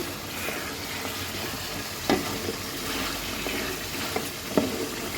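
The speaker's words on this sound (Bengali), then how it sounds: "হাঁসের মাংস এইভাবে ভালো করে কষাতে হয়" Duck meat being slowly fried down in a pan gives off a soft, steady sizzle, with a few brief scraping stirs of a spatula breaking through; quiet and fairly close, no one talking.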